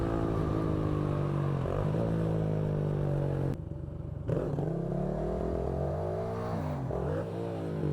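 A Kawasaki Z125 motorcycle engine revs up and down repeatedly during wheelie attempts, rising and falling pitch with a short dip where the throttle is cut, close and loud, no talking.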